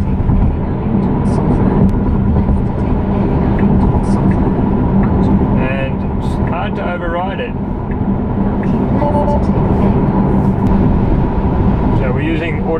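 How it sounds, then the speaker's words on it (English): Tesla Model 3 on Autopilot taking a highway exit, a steady low road and tire rumble inside the cabin with a driver talking over it throughout. "So we're using Autopilot to take the exit now"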